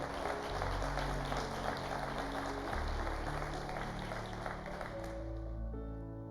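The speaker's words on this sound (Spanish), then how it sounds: "le damos un fuerte aplauso al Señor" A church congregation gives a loud, sustained round of applause to the Lord, with dense clapping filling the space throughout and low organ or keyboard tones sounding underneath.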